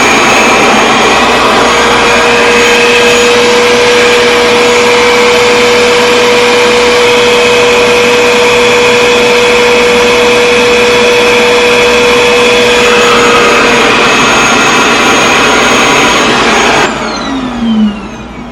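A Revair reverse-air hair dryer runs loudly and continuously on damp, detangled Type 4 hair, a steady motor whine with a fixed high tone that stops abruptly near the end; no voices.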